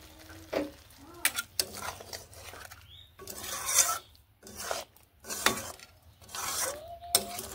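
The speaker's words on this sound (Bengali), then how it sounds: "সর্ষের তেল দেওয়ার পরে এইভাবে একটু নেড়ে মিশিয়ে নিচ্ছি।" Eggplant being stirred with raw mustard oil, giving close, intermittent rasping scrapes in short bursts separated by brief pauses.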